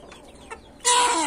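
Chickens and young chicks cluck in a farmyard, starting with soft scattered peeps and ending in a sudden loud, close burst of squawking.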